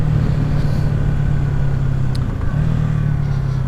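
A Yamaha WR250R 250 cc dual sport motorcycle pulling under acceleration, a loud steady engine drone with heavy wind rumble, heard close from the rider's position with a brief shift in pitch partway through.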